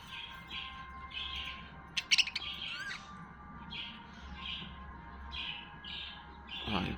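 Iraqi rainbow violet lovebirds squawk and chirp in a steady run of short, repeated calls, fairly close, with a brief burst of sharper squawks near the start of the second half.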